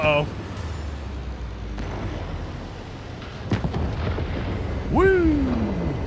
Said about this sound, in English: That old transformer just cooked off at the power